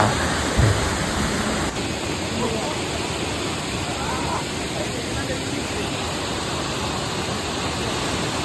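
Marottichal waterfall in Kerala, swollen after rain, gives a constant, loud, broadband roar of rushing water with no breaks from start to finish.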